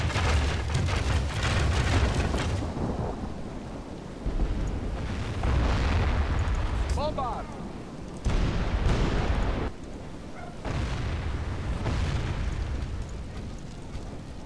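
Cannon fire and explosions in a Medieval 2 Total War siege battle, a steady rumbling roar of distant booms with repeated swells and crackling, no talk.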